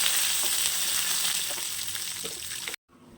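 Cumin seeds and curry leaves sizzle loudly and continuously in hot oil for a tempering, a dense steady crackle that cuts off abruptly near the end.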